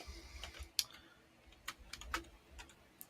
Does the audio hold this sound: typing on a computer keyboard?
yes